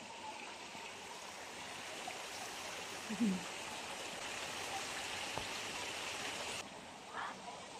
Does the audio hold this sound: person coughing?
no